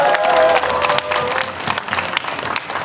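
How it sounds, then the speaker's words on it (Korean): A crowd at an outdoor candlelight rally on Geumnam-ro in Gwangju claps and cheers, loud applause swelling at first and then easing into a scattered, steadier patter. "격려의 박수를 보내주시기 바랍니다"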